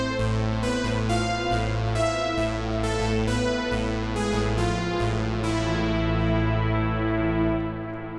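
A resonant synthesizer patch plays a sequence of plucked, sustained chords, each attack brightening then fading, layered over a steady low drone, loud and close, with a final chord ringing out.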